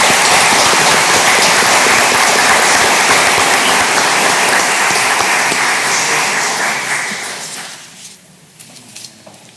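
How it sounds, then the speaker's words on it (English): Loud, sustained applause from an audience at a school district board meeting, clapping for a group of mariachi singers, dense and steady before fading away near the end. "give them a big round of applause"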